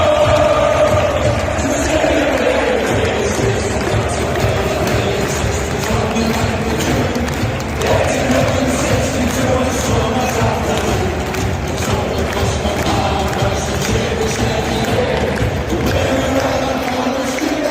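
Dense, steady roar of a large football crowd at a Newcastle United match, recorded from within the stands, with continuous murmur and occasional thuds and faint cheering throughout.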